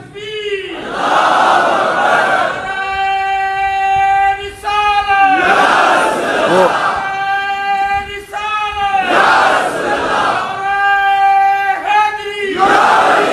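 A crowd chanting slogans at a religious speech, loud voices rising together in repeated call-and-response bursts with pauses between each shout.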